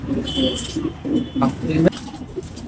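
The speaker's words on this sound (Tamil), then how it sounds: "கூண்டில் பறக்கிற எல்லா புறாவுமே திருச்சி கண்ணன் சாருடைய புறா தான்." Racing pigeons in a loft in Pondicherry coo in soft, repeated throaty bursts close by, with a person talking over them.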